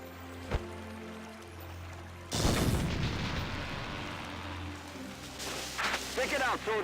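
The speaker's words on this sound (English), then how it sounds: "we're going to use a grenade on you" A grenade blasts in the Valkyria Chronicles video game: a sudden heavy boom cuts in after a quiet stretch, then a rumbling tail lingers, with a brief voice near the end.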